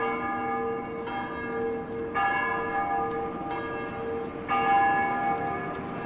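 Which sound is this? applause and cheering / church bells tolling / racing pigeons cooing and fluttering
church bells tolling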